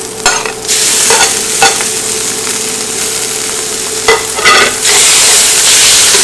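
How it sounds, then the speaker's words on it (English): Pasta being stirred in a hot pan for cheese spaghetti, with a steady sizzle and several bursts of scraping utensil strokes, close and fairly loud, no voices. "We're gonna stir it up."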